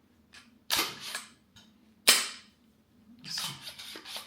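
Sharp dry clicks from the trigger of a budget rifle being dry-fired during an unboxing, two distinct snaps with softer mechanical handling noises between them, close and clear over a quiet hum.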